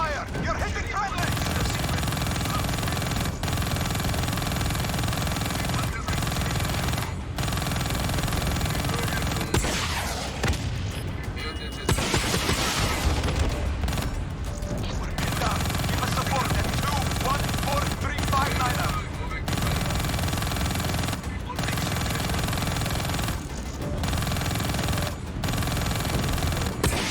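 Call of Duty: Black Ops 3 combat with sustained machine-gun bursts and scattered gunshots, plus a heavier boom midway, while voices shout over the firefight.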